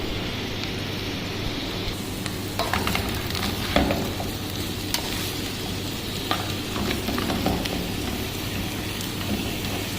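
Whole cloves sauteing in hot oil for a bottle gourd curry, a dense continuous sizzle with occasional crackles and light pan clinks, no speech.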